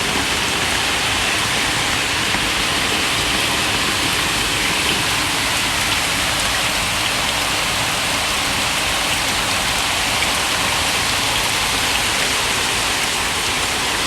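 Heavy rain pours steadily onto golden apple snail breeding ponds, a dense, loud, unbroken hiss of drops hitting water and surfaces with no voices.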